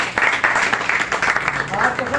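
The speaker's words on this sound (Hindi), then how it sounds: "सर के लिए एक बार जबरदस्त ताली होनी चाहिए" A seminar audience breaks into a short burst of clapping and applause, dense and fairly loud, with a voice audible over it.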